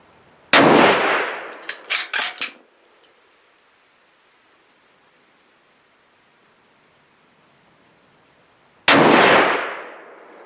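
A Thompson/Center LRR .308 rifle fires outdoors: one loud sharp shot with a decaying echo, a few metallic clanks from working the action, a long quiet pause, then a second loud shot ringing out.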